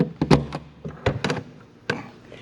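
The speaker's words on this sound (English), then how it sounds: "I'm gonna close this door" Closing and latching a door on a Citation M2 jet, a series of sharp thunks and taps, a few close knocks in quick clusters followed by a final clack, with no talk.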